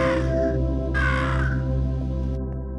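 Crows caw insistently in the video game Monument Valley, a few loud, harsh calls sounding over a steady low droning music bed, with no voices.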